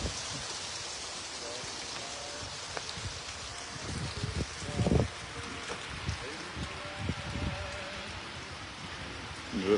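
Rain and hail fall outdoors in Montana, making a steady close patter and drumming on surfaces, with occasional louder bursts of hits and muffled handling noise.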